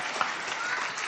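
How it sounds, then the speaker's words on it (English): Audience applause after a speech at a customs revenue event, a brief wash of steady clapping heard at moderate distance, fairly soft, with no speech on top. "make that a bigger round of applause"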